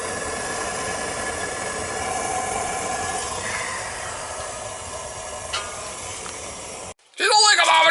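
An old home heating system's oil burner runs with a fresh nozzle, a steady roaring hiss with a faint whistling tone, cutting off abruptly near the end before a brief burst of other noise.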